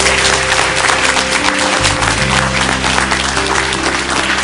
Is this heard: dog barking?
no